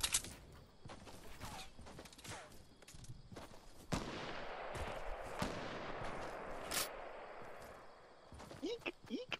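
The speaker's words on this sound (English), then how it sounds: "Now they're shooting from behind." Gunfire in Fortnite coming from behind the player: scattered shots and short bursts at moderate distance, with players talking over it throughout.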